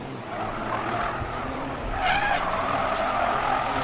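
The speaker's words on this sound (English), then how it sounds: "listen to the amount of tyre squeal on the effects mics as these cars challenge the limits of the Hankook semi-slick" Race cars on Hankook semi-slick tyres squeal through a corner at the Bangsaen Grand Prix, a sustained loud screech that swells midway over steady engine roar.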